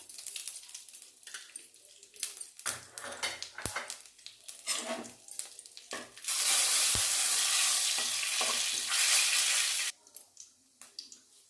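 Cumin seeds and dry chillies crackle in hot ghee in a kadhai, with close, irregular pops and clatter that swell into a loud, steady sizzle before cutting off.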